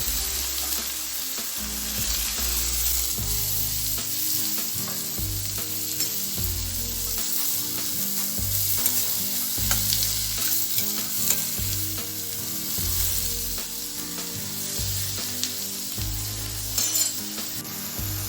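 Sliced onions sizzling in 4-5 spoons of hot oil in a pan for street-style pav bhaji, a steady crackling fry with occasional clinks and scrapes of stirring, no talking.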